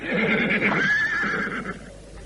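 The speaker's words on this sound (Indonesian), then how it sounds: "Iya, kita ikat kuda-kuda kita di sini." A horse gives a loud, close whinny with a wavering, quavering pitch, heard alone in a house yard where horses are being tied to a tree.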